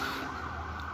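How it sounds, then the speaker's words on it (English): An emergency vehicle siren passes along a street in old Lampang, northern Thailand, as a steady wail that stays loud for the whole second over constant road and traffic noise. "excuse the siren going past"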